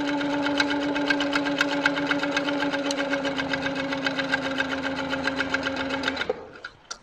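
A sitdown longarm quilting machine sews with a steady motor hum and fast, even stitching ticks, then slows and stops near the end.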